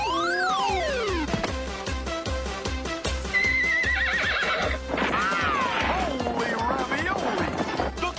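A cartoon horse neighs in the Super Mario Bros. Super Show amid clip-clopping hooves, crashes, whacks and sliding musical effects, with cartoon voices over the busy soundtrack.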